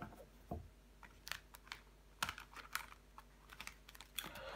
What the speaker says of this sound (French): Nous allons recouvrir des cartes.